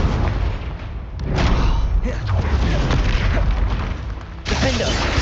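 A Confringo fire spell blasts in Hogwarts Legacy, a loud booming burst with rumbling impacts during spell-casting combat, then another sharp boom near the end.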